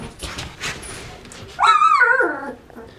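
A young puppy from a litter just starting on water and food lets out one short, high yipping bark near the microphone after a moment of quiet shuffling.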